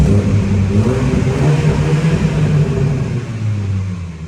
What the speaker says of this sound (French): j'en profite pour vous faire écouter la sonorité maintenant que le moteur est chaud.